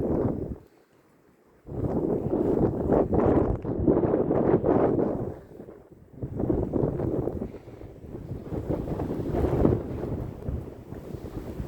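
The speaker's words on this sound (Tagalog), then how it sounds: "Lakas ng hangin." Strong gusts buffet the microphone in loud roaring bursts during snowfall, dropping briefly to near quiet before surging again.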